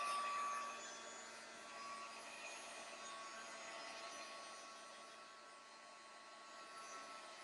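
A heat gun blows over an art journal page, a faint steady whooshing hiss that holds throughout with no talking.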